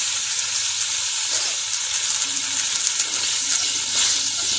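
Tomato sauce hitting hot oil with fried ginger and green chilli sizzles in a steady, loud hiss that holds throughout, with faint stirring scrapes underneath and no voices.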